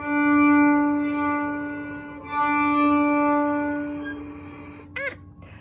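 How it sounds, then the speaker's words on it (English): A violin bowed right near the bridge: two long sustained strokes with a thin, glassy edge, followed by a brief squeak at the end. "what was happening was my bow was almost on top of my bridge"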